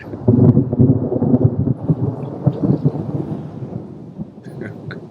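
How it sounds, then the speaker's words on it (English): A loud, close thunderclap in Helsinki rumbles low and heavy, then rolls and fades over about five seconds with a light rain hiss underneath and no talk. "That's real thunder."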